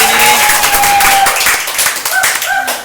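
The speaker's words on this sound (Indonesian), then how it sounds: "Tepuk tangan dulu buat teman-teman kita di sini." A studio audience claps for guests at the start of a talk show, a loud crowded patter of hands mixed with whoops and cheering voices that taper off slightly toward the end.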